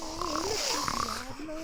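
A man snores in his sleep for a short stretch, a low, rasping breath that rises and falls, moderately quiet and heard on its own as an effect in a French audiobook of a Grimm fairy tale.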